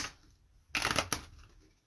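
Tarot cards are shuffled in a quick, close burst of riffling and soft crunching, heard alone and fairly faint.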